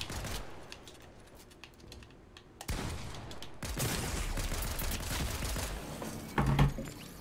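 Fortnite gunfire comes as rapid bursts of crisp clicking shots, with a quieter spell early on before denser, louder volleys fill the rest.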